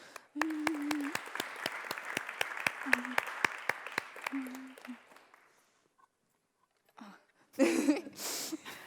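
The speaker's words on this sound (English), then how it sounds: "So if we could have a round of applause for Jo." A short burst of applause from a small audience at the Cambridge Union, brisk claps over a few seconds fading out, followed by quiet and then brief movement noise.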